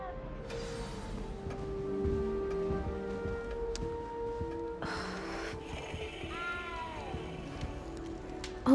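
A cat meows a few times in the video game Hogwarts Legacy, set in a castle, with the short calls sitting over steady game music and ambience at a moderate level.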